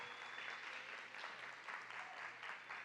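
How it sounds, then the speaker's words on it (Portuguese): Audience applause for a woman named Thelma, steady and continuous clapping from a crowd at a teen gathering, heard faintly and evenly throughout. "Palmas para Thelma."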